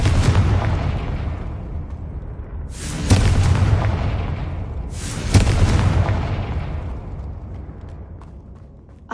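Confringo blasting spell explosions in the Hogwarts Legacy video game: two loud, booming blasts a few seconds apart, each with a long rumbling decay, over a steady low background of game ambience.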